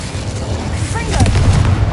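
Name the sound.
Incendio fire spell cast, from the video game Hogwarts Legacy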